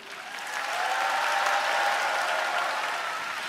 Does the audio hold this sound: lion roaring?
no